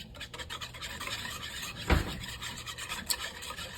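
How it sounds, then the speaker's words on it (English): A tiny whisk scrapes and taps rapidly around a small bowl, a quick rhythmic rubbing with one louder clack midway, close and fairly faint. "now we're going to whisk this together in a little tiny baby whisk"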